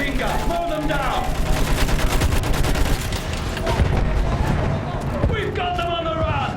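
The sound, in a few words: machine gun firing in battle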